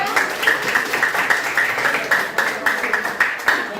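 Classroom applause from a group of students, steady rapid clapping that continues evenly throughout at moderate loudness with no break.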